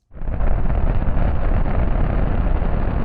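SpaceX Starship Ship 39 fires its rocket engines in a full-duration static fire test at Massey's, a sudden onset into a sustained, heavy roar heard from a distance, steady and unbroken.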